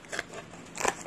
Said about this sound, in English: And then you take your tape,